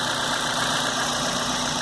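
A repaired Chevrolet Corsa 1.0 flex engine idles steadily and close by, a continuous even hum with a faint high whine over it and no talk.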